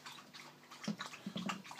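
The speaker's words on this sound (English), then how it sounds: "See little air pockets just bubbling up." Small gas bubbles rise and pop in a pan of electrolysis solution during rust removal, a soft, close, irregular fizzing and gurgling of water with a few brief louder bursts.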